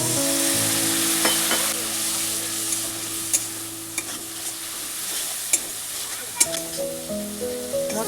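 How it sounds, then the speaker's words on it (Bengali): Ground spice masala of coriander, cumin, chilli and turmeric with a splash of water frying in a pan, a continuous bubbling sizzle with irregular stirring clicks and scrapes, a low hum underneath. "মশলাটা ভালো করে কষিয়ে নিব"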